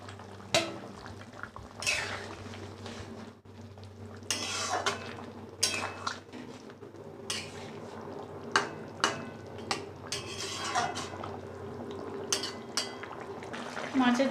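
Fish pieces going into bubbling gravy in a pan, heard as clinks and scrapes of a utensil against metal over a soft simmer, close and moderately quiet, with a few sharper knocks spread across the stretch.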